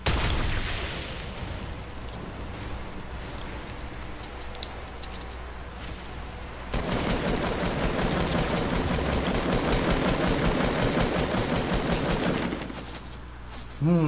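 Rapid bursts of video game gunfire rattle on and off, growing into a sustained dense volley in the middle before cutting out.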